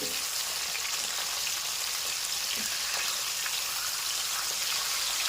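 Rui fish pieces frying in hot oil in a pan, a continuous even crackling sizzle heard close and alone.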